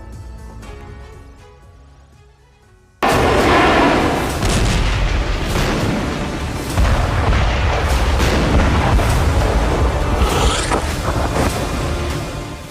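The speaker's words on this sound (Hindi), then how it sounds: "आसमान से बम बरस रहे हैं, नीचे इमारतें मलबा बनती जा रही हैं। हर धमाके के साथ बड़ी तादाद में जाने जा रही हैं।" Bombs exploding in Gaza airstrikes, heard as a heavy, sustained rumble of booms and blasts that suddenly takes over after a few seconds of soft music and stays loud to the end.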